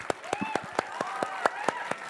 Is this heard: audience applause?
yes